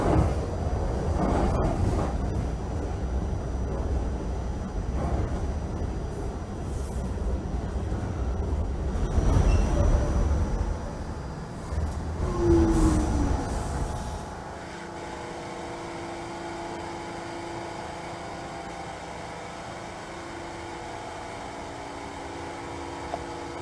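A New York City subway N train in Trainz Simulator 2012 rumbles loudly with broadband roar and rattling, swelling and easing before settling into a quieter steady hum at a stop.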